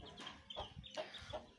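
An Aseel hen clucks in a series of short, faint, evenly spaced calls close by, with no voices over them.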